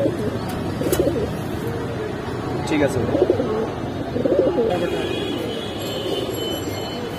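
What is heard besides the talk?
hydraulic pigeons cooing at a pigeon market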